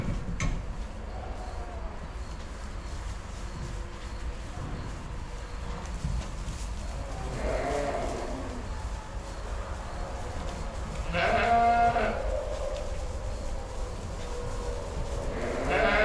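Commercial Suffolk sheep bleat in a farm group, a few separate calls from moderately near over steady low background noise, with brief voices in between.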